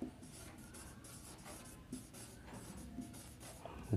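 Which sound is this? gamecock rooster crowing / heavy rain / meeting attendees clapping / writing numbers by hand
writing numbers by hand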